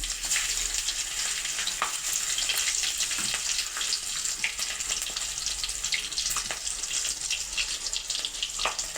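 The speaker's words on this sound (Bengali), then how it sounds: "কড়াইতে তেল দিয়ে অল্প যেহেতু তেল আছে একটু অল্প তেল দিয়ে দিলাম এর মধ্যে দিয়ে দিলাম কালো জিরে কালো জিরে ফরং আর লঙ্কা" Black cumin seeds and chilli frying in a little oil in a wok, a steady broad sizzle with scattered small crackles and pops running throughout, fairly close and continuous, with no voices.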